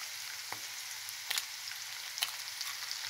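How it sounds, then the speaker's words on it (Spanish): A raw egg hits a hot frying pan for scrambled eggs, setting off a steady bright sizzle with a few louder spits and crackles, close and alone. "Ahora vamos a echar el huevo."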